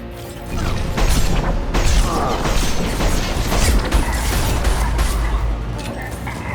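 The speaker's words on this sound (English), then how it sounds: "incendiary explosive burst" Explosive burst from an incendiary attack in Mass Effect 2, a loud sustained roar of crashing, rumbling blasts and mechanical clatter filling the whole stretch, with faint voice chatter underneath.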